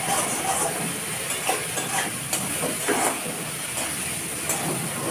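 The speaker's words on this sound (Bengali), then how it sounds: "এবার কষিয়ে নিচ্ছি, তারপর আর কি জল দিয়ে দেবো।" Tomato with chili and turmeric powder stir-fried in a pan, giving a steady sizzle with irregular scraping stirs, moderately loud and continuous with no talk.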